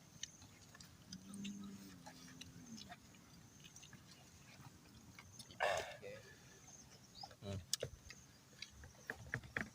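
Someone chews grilled chicken outdoors in the woods, a quiet, close series of soft, irregular mouth clicks and wet bites, with occasional louder knocks and faint murmuring.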